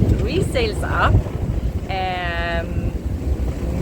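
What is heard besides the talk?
strong gusty wind on a sailboat at sea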